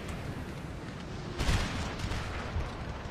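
Cannon fire on a Napoleon Total War battlefield: a deep, rumbling boom bursts out midway over a constant low battle din, followed by a smaller thump, distant and muffled.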